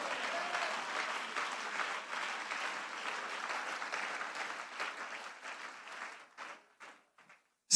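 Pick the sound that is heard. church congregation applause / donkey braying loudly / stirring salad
church congregation applause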